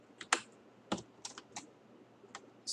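Keys clicking on a computer keyboard, a few close, irregular taps and short clusters of strokes with quiet pauses in between.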